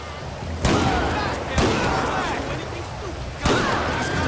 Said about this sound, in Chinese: 这把枪声引来了更多的丧尸和警察